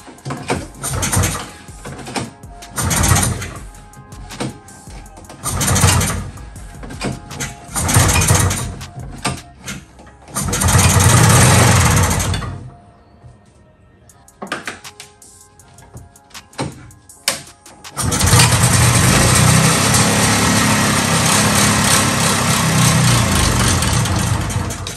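A vintage amphibious 6x6 Terra Tiger's engine cranks in a series of short, loud bursts and catches briefly, then fires and runs steadily and loudly for the final stretch.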